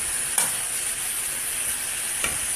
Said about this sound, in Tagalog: Ito yung ating gulay. Gisadong gulay.